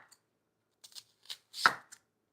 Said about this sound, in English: And loving how my knife just goes down